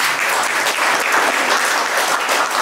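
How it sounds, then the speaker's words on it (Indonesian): Steady, dense applause fills the room at an Indonesian break-the-fast gathering with a cleric, a crowd clapping loudly and continuously with no pauses or talk. "Tepuk tangan semuanya."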